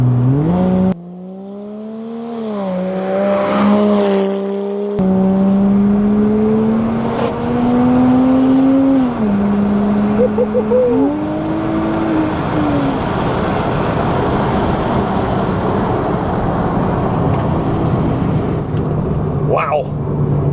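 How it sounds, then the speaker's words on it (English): A Porsche Cayman 987 with a Top Gear valved exhaust, valves open, revs loudly in rising and falling sweeps, heard close with a brief voice at the start and the engine note settling into a steady drone. "use the key fob to open the valves"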